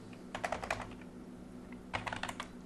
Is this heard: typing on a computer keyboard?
yes